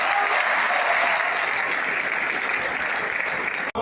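Enthusiastic applause from an audience at a Hindi stage talk or comedy show, a bright, dense, continuous clapping from many people that stays loud and even before cutting off abruptly at the end.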